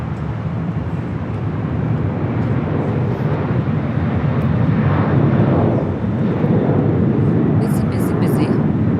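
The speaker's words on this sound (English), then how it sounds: "Delta Airlines, flight 979, heading off to JFK, 767-300 ER" A Delta Air Lines Boeing 767-300ER jet departing LAX for JFK: a loud, steady broadband engine roar that fills the whole stretch, with faint higher chirps near the end.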